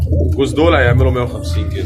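Pigeons coo in soft repeated phrases at close range, mingling with someone speaking over them. The birds are Egyptian nash and airport breeds of pigeon, some of them with patched, pied markings.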